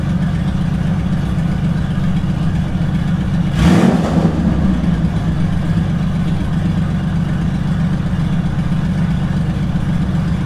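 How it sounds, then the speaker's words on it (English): Honda Valkyrie motorcycle engine with six carburetors idling steadily nearby, a low continuous rumble throughout with one brief louder blip of revving about a third of the way in. "I like the idle on this between 900 and 1000 RPMs typically."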